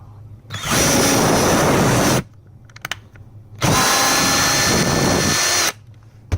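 A power drill drives screws while a Mercedes under-seat storage bin is installed, two loud, close, sustained whirring runs about two seconds each, with a short gap and small clicks between them.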